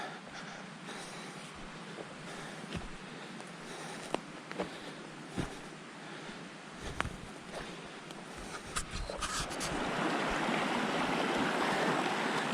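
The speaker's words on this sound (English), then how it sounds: "This is a pretty good sized stream" Steady broadband rush of a good-sized mountain stream in a snowy backcountry basin in July, continuous and close, with a few sharp clicks and a louder surge of water toward the end.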